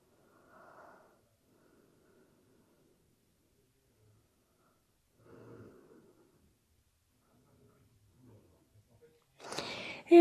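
Quiet, widely spaced breaths during a Pilates exercise on the floor, two soft exhalations followed by a louder, rougher breath near the end, with near silence in between.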